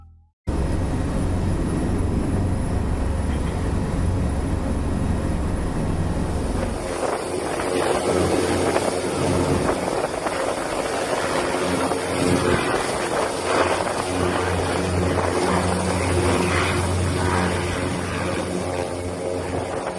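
Helicopter landing to deliver flood relief supplies in Aceh Tamiang, Aceh, a loud steady rotor and engine roar with heavy wind buffeting throughout, close and continuous.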